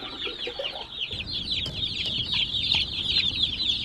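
Backyard chickens crowd around a chicken nipple waterer, a busy flock of overlapping clucks and chirpy calls at close range, steady and fairly loud throughout with no talking.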